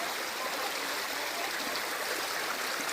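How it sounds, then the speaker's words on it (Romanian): Small waterfall and flowing stream water in a mountain valley, a steady, even rush of splashing water filling the whole clip with constant broadband noise, close and moderately loud. "Uite mai acolo o mini cascadă."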